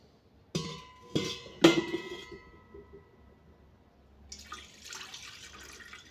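Metal clanks three times, then water splashes and pours out of a container as rinse water is drained from ghee being washed repeatedly for shata dhauta ghrita, close and moderately loud.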